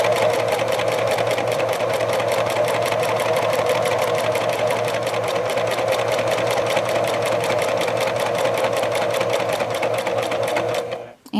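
A sewing machine runs continuously while stitching French seams in fabric, with a fast, even mechanical chatter that is loud and close and stops abruptly at the end.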